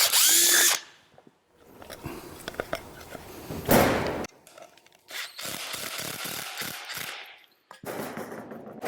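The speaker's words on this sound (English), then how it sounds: "I'll go ahead and enlarge my hole in my hospital plate for the screw" A power drill enlarges a screw hole in a hospital plate for a horse hoof, with loud, close bursts of whirring and grinding broken by short stops and rattling restarts.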